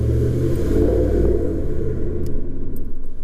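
A truck fitted with a Carven Competitor Series exhaust and a K&N cold air intake gives a deep, loud, close rumble that holds steady and then eases off toward the end.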